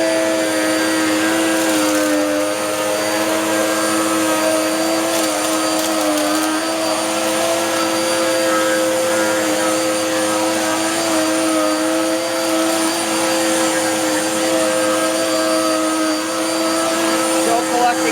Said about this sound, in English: my custom Dirt Devil. I got a different Dirt Devil powermax base plate on there